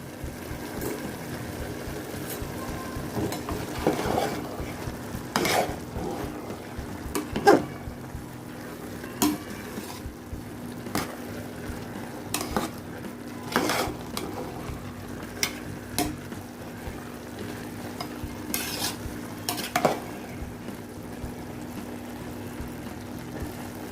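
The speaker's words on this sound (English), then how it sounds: "and give it a good mix." A spoon stirring chana rice in a pan, producing scattered scraping and clinking knocks against the metal at irregular intervals over a faint steady sizzle, fairly quiet and close.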